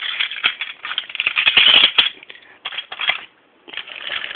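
Toy trucks crash into unsecured buffers in a model railway scene, a loud clattering jumble of plastic knocks and rattles in quick bursts with a brief pause near the end.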